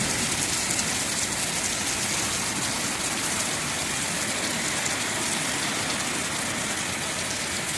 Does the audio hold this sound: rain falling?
yes